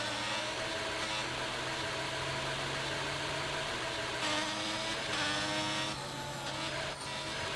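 Engine of an F1 racing video game car at the Monza circuit, a steady droning hum with rising and falling revs, heard alone at moderate volume.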